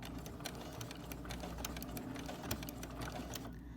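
A sewing machine back stitching a quilted potholder runs steadily up close, its rapid mechanical clatter and rhythmic needle ticking continuing throughout before easing off at the end.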